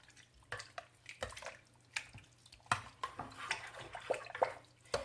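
Soup base stirred in a pot, with faint, irregular scraping and liquid sloshes close by, some sharper clinks scattered among quiet gaps.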